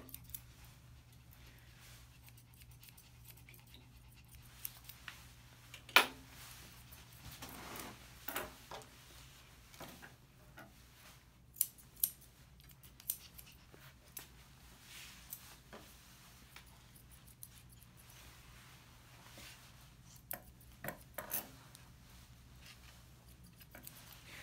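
Scissors trim a Pomeranian's hair in scattered soft snips and clicks, close but very quiet, against near silence.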